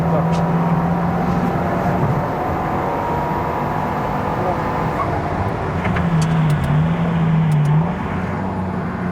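A sports car, the KTM X-Bow GT-XR, accelerates at full throttle from inside the cabin, its engine droning steadily with a brief lift and then a return to full power, while someone talks over it.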